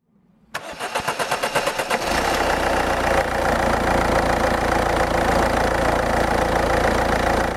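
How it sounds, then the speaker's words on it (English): A car engine cranks with a rapid run of starter pulses, catches after about two seconds and settles into a steady, loud idle, heard close up with no talking. "Now we start the engine."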